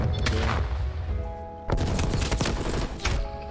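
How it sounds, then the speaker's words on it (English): Gunfire and booming explosions from an artillery strike in Black Ops Cold War multiplayer come as a dense, loud barrage. A sharp burst of blasts lands midway through, with a low rumble throughout. "Yeah, artillery."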